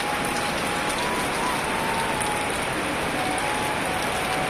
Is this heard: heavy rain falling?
yes